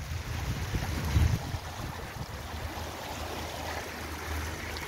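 Water flowing down from a mountain in a stream, a steady low rushing and wind-like roar with a brief bump of louder noise, fairly close and without talk.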